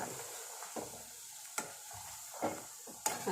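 Chopped onion sizzling in hot oil in a pan on raised heat, a steady soft fry with a few stirring scrapes and spoon knocks, close and alone without speech.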